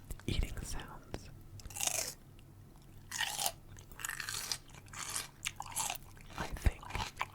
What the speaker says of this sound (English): these crunchy bell pepper chewing sounds are quite enjoyable